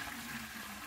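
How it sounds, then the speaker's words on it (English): Concentrated maple sap from a reverse-osmosis system is poured into a stainless steel stock pot, giving a faint, continuous liquid trickle and splash with no voices. "All we do is fill this with raw sap"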